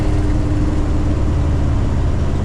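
The 5.9 Magnum V8 of a Dodge D150 street truck with Holley EFI revs high before the transmission shifts, a loud, steady low engine roar heard from inside the cab.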